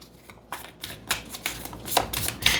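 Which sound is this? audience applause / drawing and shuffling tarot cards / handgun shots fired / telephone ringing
drawing and shuffling tarot cards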